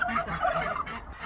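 A turkey gobbles on a homestead in the morning, a loud close warbling rattle of rapid gobbles filling the whole moment.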